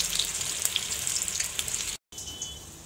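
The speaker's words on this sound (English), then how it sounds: "We have to cook them on a medium flame, otherwise the brinjal will remain raw from inside." Eggplant fritters (brinjal pakoras) fry in oil over a medium flame, making a loud, steady, close crackling sizzle that drops out for a brief moment and then returns.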